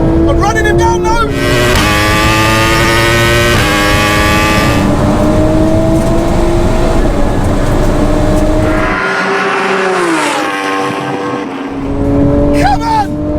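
A 1100HP Nissan R35 GTR street racing screams through rising gears, with loud engine revs climbing and shifting repeatedly and a brief drop-off near the end before it pulls again. Voices shout excitedly over the engine noise.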